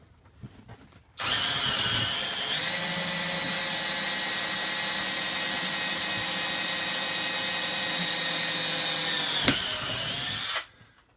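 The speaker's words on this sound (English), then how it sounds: "Drilling a pilot hole." A power drill bores a pilot hole in steel framing tubing under a recliner slide-out floor, whining loudly and steadily for about nine seconds with a slight pitch dip partway, then stopping abruptly.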